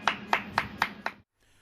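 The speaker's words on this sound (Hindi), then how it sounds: "बेरोजगार साथियों के लिए ताली और थाली, एक बार मोदी जी के लिए तो एक बार बेरोजगारों के लिए भी बजनी चाहिए" Five evenly spaced sharp claps or plate strikes at an unemployment protest, crisp and close, then abrupt silence.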